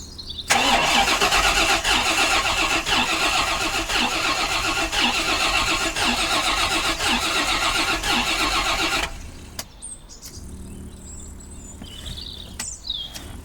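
A Rolls-Royce Silver Spirit engine cranks and catches, running loud and steady with a rhythmic mechanical pulse for about nine seconds before cutting off, leaving quiet ambience with faint bird chirps.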